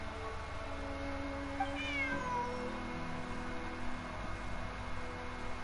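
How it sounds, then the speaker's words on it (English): Bonnie, a cat in the Genshin Impact video game, gives a single short, faint meow over a soft steady background hum, with no talking. "Bonnie is Pierre's cat."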